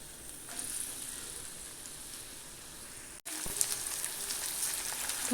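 Sliced large onions sizzle steadily in hot oil in a pan for an egg gravy, a dense broadband frying hiss with a brief break near the end before resuming louder.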